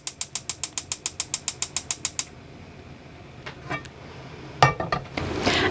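A gas stove burner under a skillet with canola oil gets lit: a rapid, even series of about fourteen sharp igniter clicks, then quieter rattles and a louder click-and-catch as the flame takes.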